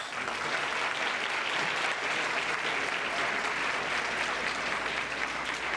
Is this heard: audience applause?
yes